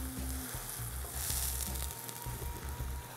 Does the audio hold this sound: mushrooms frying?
yes